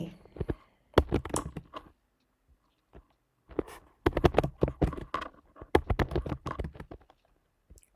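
Fast, uneven bursts of clicking from a computer keyboard during a one-minute typing speed test, close and crisp, with short pauses between flurries and no voices.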